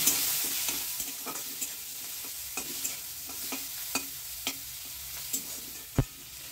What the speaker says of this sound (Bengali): এই চিংড়ি মাছটাকে পেঁয়াজ রসুনের সঙ্গে একটু হালকা করে ভেজে নেব